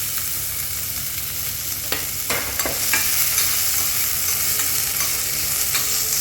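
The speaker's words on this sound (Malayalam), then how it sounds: "ഉള്ളി ചുവന്ന നിറാകുന്നവരെ വഴറ്റണം" Onions sauté for chicken curry in a hot pan with cardamom, bay leaf and cloves, giving a steady close sizzle broken by a few sharp scrapes and stirs of a spoon.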